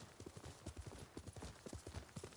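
Galloping horse hooves thud in a quick, steady clip-clop rhythm in the video game Ghost of Tsushima, loud and close with no talk over them.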